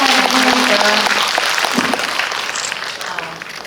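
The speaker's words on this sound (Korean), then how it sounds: "저희 박수 치면서 오늘 이 자리 마감하도록 하겠습니다" Audience applause at a special guest-visit film screening event, a dense, steady clapping crowd that stays loud throughout and eases slightly toward the end, with a voice briefly audible underneath.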